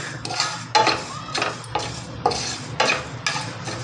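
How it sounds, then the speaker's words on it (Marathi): Sesame seeds and fenugreek roasting dry in a pan, stirred evenly with a utensil: repeated scraping strokes against the pan at a steady rhythm, close and moderately loud, with faint crackling underneath and no talk. "एकसारखं हलवून घ्यायचं आहे."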